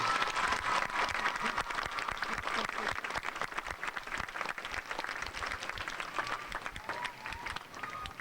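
A school auditorium audience claps steadily for eighth-grade gold medallion winners at a 1994 graduation ceremony, with dense, sustained applause filling the room throughout and no speech over it.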